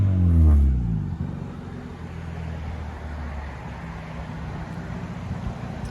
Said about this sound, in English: Give me gas again. What a Kia Soul sounds like when it's straight.